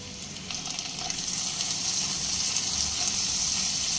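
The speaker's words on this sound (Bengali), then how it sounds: "পেঁয়াজের মধ্যে আমি 1 টেবিল চামচ আদা রসুন পেস্ট দিয়ে দেব।" Ginger garlic paste added to golden fried onions sizzles in a pan, the frying hiss building within the first second and then holding steady and fairly loud.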